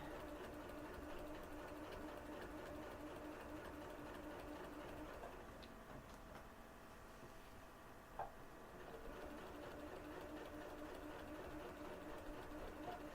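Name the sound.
sewing machine quilting lines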